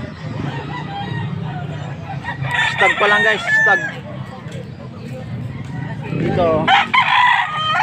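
A young stag gamecock crows loudly nearby and clucks at a gamefowl sale in Angeles, Pampanga, with two crows standing out over background chatter and someone speaking briefly.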